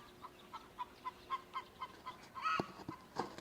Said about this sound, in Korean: 닭소리 들리나요?